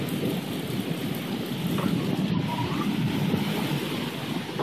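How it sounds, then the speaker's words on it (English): Steady rain hisses throughout while low thunder rumbles continuously underneath, distant and rolling rather than sharp, in East Central Indiana. "That's constant. Not the rain, but the thunder."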